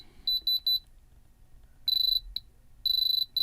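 A moissanite tester gives sharp, high electronic beeps when its tip touches metal: three quick chirps, then longer sustained tones, near and clear against a quiet background.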